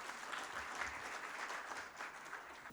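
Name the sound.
applause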